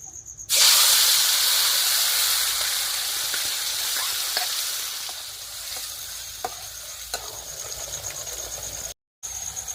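Ground masala paste dropped into hot oil for a village-style river fish (wam) curry erupts into a loud sizzle, then settles into a steady hiss with occasional stirring clicks and a brief dropout near the end.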